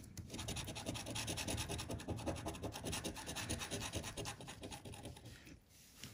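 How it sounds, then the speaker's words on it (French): A coin scratching an FDJ As de Coeur scratch card, rapid rhythmic rasping strokes close up and continuous for several seconds before easing off near the end. "Ça va être sympa de gratter tout ça avec une pièce qui veut pas gratter."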